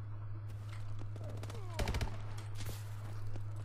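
Gunfire in Call of Duty: Advanced Warfare on the Detroit map, with a close cluster of loud shots near the middle of a short stretch of game sound.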